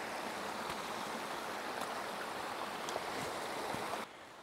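Storm-swollen mountain stream crisscrossing a hiking path, a loud continuous rushing and splashing of water heard close up, with no talking.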